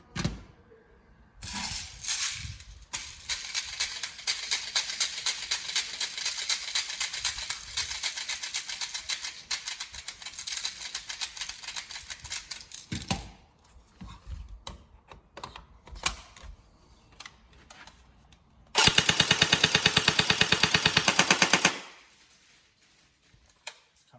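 An upgraded TM SGR12 AES airsoft gun firing full auto indoors, long rapid mechanical bursts with short gaps, then a final loud burst before stopping, no talking.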